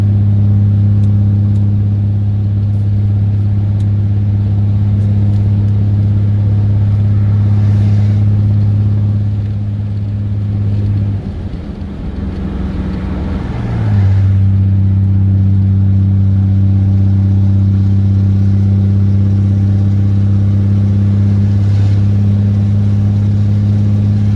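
Dodge Ram 5500 Cummins diesel truck hauling 46,000 lbs up a mountain grade: a loud, steady engine drone from inside the cab holds for the whole stretch, dips briefly midway, then resumes at a slightly shifted pitch.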